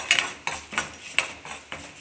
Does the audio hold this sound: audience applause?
no